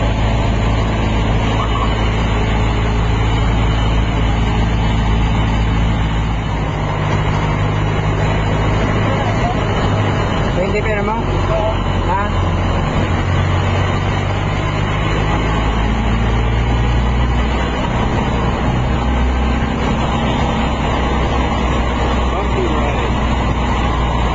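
Riding inside an open-air jeepney: a loud, constant engine rumble and road roar fill the whole stretch, with some rattling and voices faintly mixed in.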